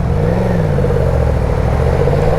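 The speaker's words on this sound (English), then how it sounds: "God, that throttle response is ass. That's wide open throttle." A 2022 Yamaha MT-10 SP motorcycle at wide open throttle, its engine roaring loudly and steadily up close, mixed with heavy wind rush.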